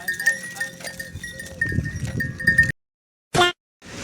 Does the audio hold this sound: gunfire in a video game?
no